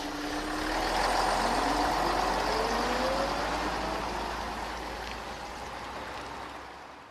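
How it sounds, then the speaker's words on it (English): A city bus idling and pulling away, with a steady low engine rumble, a rising whine as it accelerates and a faint beeping, loud and close with no voices. "prepared to board the city bus"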